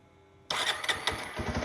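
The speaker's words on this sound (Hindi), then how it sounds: "ये लो, एक ही बार में स्टार्ट हो गई" A motorcycle engine catches on the first try after a quiet moment, bursting abruptly into a loud, close running note that settles into a steady idle, with no speech.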